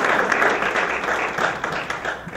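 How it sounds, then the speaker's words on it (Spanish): An audience at a clinical case conference on autoimmune liver disease gives a loud, dense round of applause that holds steady for its whole length without a pause. "Le damos la bienvenida con un fuerte aplauso."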